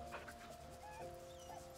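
A puppy whimpering in the video game Baldur's Gate 3, soft, thin whines and yips over a steady game ambience, fairly quiet and without speech.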